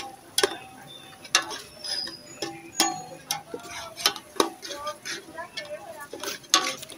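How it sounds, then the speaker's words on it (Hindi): Chopped cabbage is stirred into Chinese rice in a pot, a spoon clinking and scraping against metal in irregular taps and scrapes, with light sizzling and a voice speaking nearby. "अब इसको मिक्स अच्छी तरह करना है।"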